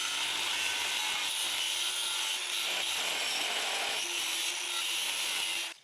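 Angle grinder cutting into the rear wheel bearing shoulder of a VW Golf Mk4, a continuous loud high-pitched grinding whine that holds steady for several seconds before stopping.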